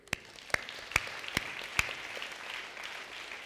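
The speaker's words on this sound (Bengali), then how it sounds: "আমি তাদের জন্য করতালি দিই" One person in a church claps five or six sharp, evenly spaced claps during a Bengali sermon, then the hall falls quiet with only soft room noise.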